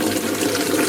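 Hot water running from a household tap, a brief, steady, close rushing splash of liquid filling a container.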